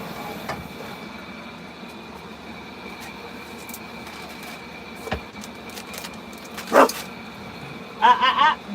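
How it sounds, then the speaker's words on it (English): A few distant dog barks ring out late, a short burst then a cluster, over a steady mechanical hum with occasional knocks. "She hears some dogs barking."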